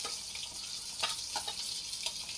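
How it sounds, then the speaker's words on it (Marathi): Chopped onion hits hot oil with mustard seeds and cumin in a home kitchen pan, giving a steady, close sizzling hiss with scattered sharp crackles and pops throughout, no voices. "त्याच्यामध्ये हा चिरून घेतलेला कांदा जो आहे तो टाकून घेते"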